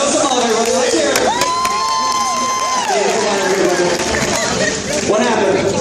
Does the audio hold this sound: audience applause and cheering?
yes